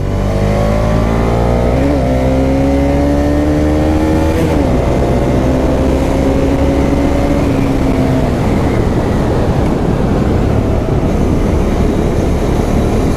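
A Bajaj Dominar 250 motorcycle engine revs loud and close, its pitch sweeping up through the gears and then falling away into steady road and engine roar, with no talking over it.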